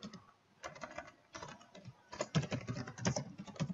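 Someone types on a computer keyboard at close range, tapping out irregular bursts of keystrokes separated by short pauses, quiet but crisp.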